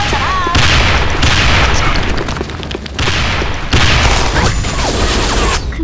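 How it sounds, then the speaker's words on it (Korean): Grenade blasts and gunfire in the online shooter Sudden Attack, loud booming bursts layered over continuous battle noise, with game voice callouts heard in the mix. "수류탄 투척!"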